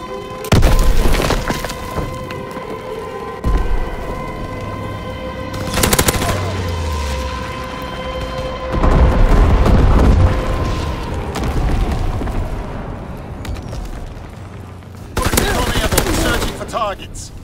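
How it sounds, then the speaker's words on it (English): Bombing-run explosions and gunfire in the Call of Duty: WWII ORSO Liberator strike: heavy booms and rattling machine-gun bursts in several loud waves, with a steady tone and radio-style game voice lines underneath. "Altitude bombing run inbound."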